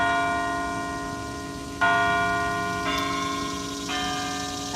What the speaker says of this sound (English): Okay, I'm just going to wait till the bells are done.